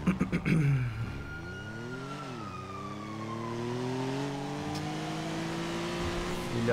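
A car engine in a video game revs and shifts through gears, its pitch climbing and dropping in steady sweeps, close and continuous after a few short bursts at the start.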